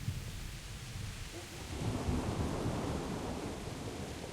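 Rolling thunder from a lightning storm in Kingdom Come Deliverance swells into a broad rumble midway and carries on over steady rain, with no speech.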